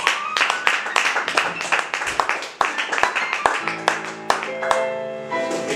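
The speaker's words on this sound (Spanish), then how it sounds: "al que pido un fortísimo aplauso" An audience applauds the philharmonic orchestra at a concert, a burst of clapping carrying on for several seconds while a voice over the room's sound system speaks across it.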